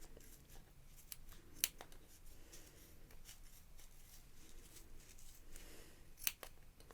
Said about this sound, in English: now we're going to cut along these edges to make our pom-pom shape